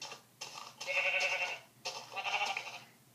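Sheep bleating in a video game, two drawn-out bleats in quick succession, fairly clear and close, with nothing else heard around them.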